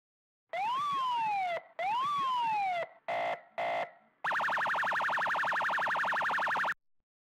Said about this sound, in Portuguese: Agora vamos para a sirene, né?